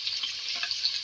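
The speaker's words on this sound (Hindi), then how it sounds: "उसको डाल के फ्राई करेंगे।" Potatoes frying in hot oil for aloo korma, a brief bright crackling sizzle that holds steady and close, with faint stirring underneath and no speech.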